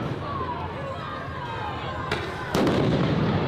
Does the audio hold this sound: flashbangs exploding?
yes